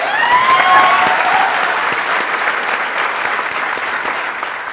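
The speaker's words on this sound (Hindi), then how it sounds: "इस जोरदार तालियां" A large studio audience claps loudly and steadily throughout, a dense, even patter of applause with a faint whistle near the start.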